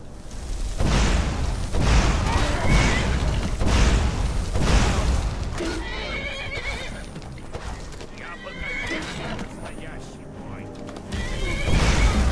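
A horse in Skyrim neighs and whinnies loudly over clip-clopping hooves, with low booming game effects underneath and a voice talking in places.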